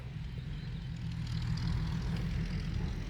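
A tractor engine works on a muddy earth-filling site, a continuous low, heavy rumble at steady loudness that swells slightly partway through, with no voices.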